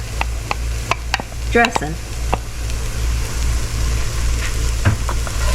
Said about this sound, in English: the celery and the onions, and we're going to saute these until they're tender